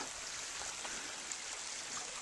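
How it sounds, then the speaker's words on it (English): Rainwater runs in a makeshift stream beside the Appalachian Trail at Hawksbill Gap in Shenandoah. It makes a soft, continuous trickling rush, faint and steady, with no voices. "A lot of improvised streams here that aren't normally here."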